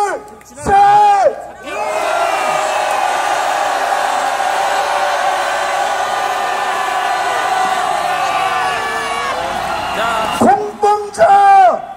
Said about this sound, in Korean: 5초간 함성하겠습니다